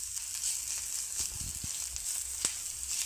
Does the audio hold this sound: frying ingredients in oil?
yes